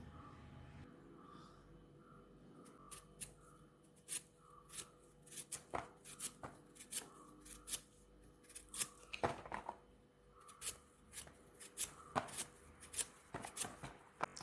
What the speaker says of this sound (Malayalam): നമുക്കിനി ഇത് അരിഞ്ഞെടുക്കാം